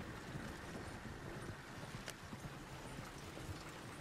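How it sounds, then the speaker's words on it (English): Horse hooves clip-clop at a steady walking pace in Red Dead Redemption 2, faint and distant beneath a constant wash of wind and ambient noise. "I think the horse is getting skittish."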